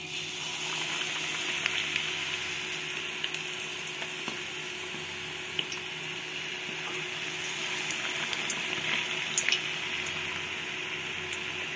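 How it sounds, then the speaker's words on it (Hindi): Gram flour batter-coated chillies frying in hot oil for pakoras, a steady dense sizzle and crackle with occasional pops, close up and continuous without speech. "तो मिर्ची को हम इस तरह से बेसन में डुबाएंगे और एक एक करके इस तरह से अब तेल में छोड़ेंगे।"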